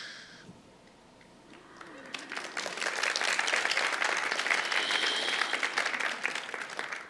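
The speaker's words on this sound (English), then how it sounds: "You are applauding just for that." After a quiet moment with faint voices, an audience breaks into steady clapping that swells and holds, then starts to taper off near the end.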